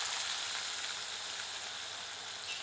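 Potatoes frying in hot oil seasoned with asafoetida, a soft, even sizzle with fine crackling that carries steadily from start to end at low volume, no talking.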